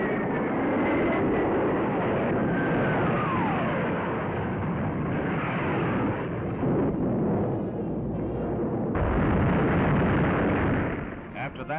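Napalm bombs from a saturation attack at an Air Force demonstration roar as a dense, continuous rumble of blasts and aircraft noise, loud and sustained for several seconds with a brief drop before swelling again.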